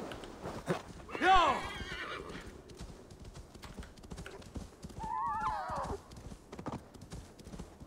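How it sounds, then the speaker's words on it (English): Horse neighing with galloping hooves in Assassin's Creed Valhalla, a loud whinny near the start and a second shrill neigh midway over steady clip-clop, under a bed of game sound. "Horse coming."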